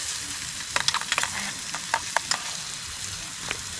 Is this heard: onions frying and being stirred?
yes